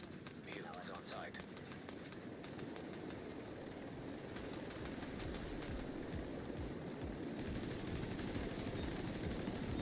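A helicopter arriving in a video game, its rotors producing a rapid, continuous chopping thump that builds and stays loud throughout, mixed with gritty mechanical and gunfire-like noise.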